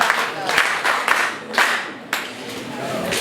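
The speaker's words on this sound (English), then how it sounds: "We had her a hand clap." An audience claps by hand at a school function, a scattered, uneven round of clapping with several sharper claps standing out, fairly close and moderately loud.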